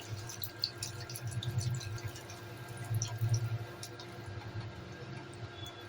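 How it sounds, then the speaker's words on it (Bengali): Water trickles and splashes steadily into a cooking pot of spiced chickpeas being prepared for chola bhuna, a soft continuous pour with faint drips, fairly quiet and with no talk. "আমি মোটামুটি 1 কাপ মতো পানি দিলাম।"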